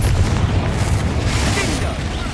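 A Confringo fire spell bursts in Hogwarts Legacy, a loud, deep rumbling boom sustained under the game's noisy battle, with voices mixed in.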